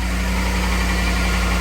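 A Ford F150 with a Coyote engine idles with an exhaust leak near the catalytic converters, producing a steady, close, low rumble with an even pulsing throb and no talk.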